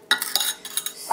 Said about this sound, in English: So now we're going to mix this together.